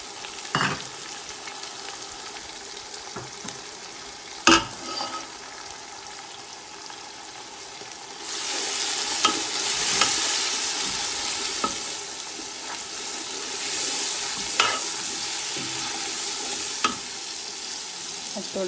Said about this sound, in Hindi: अब जो है थोड़ा सा ब्राउन हो गया तो इसमें मिर्चें भी डालेंगे।